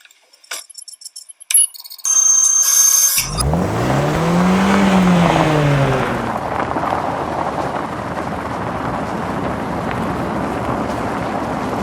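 Car fitted with sled skis turning around: after some clicks and clatter at the start, the engine revs up loudly in a rising then falling sweep, followed by a steady rough scraping rumble from the skis.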